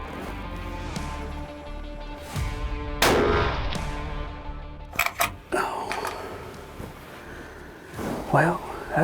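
A 7mm PRC hunting rifle firing a 180-grain Hornady ELD-M bullet goes off once on a ranch hunt, a single loud, sharp crack with a short echo, amid quieter clicks and people talking.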